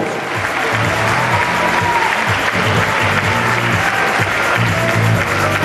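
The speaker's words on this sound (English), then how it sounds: "A big round of applause, ladies and gentlemen, for our winner." An audience claps loudly and continuously for the winner of a bodybuilding contest, the NABBA Worlds 2012 Miss Figure Short class, and the applause stays dense and unbroken throughout.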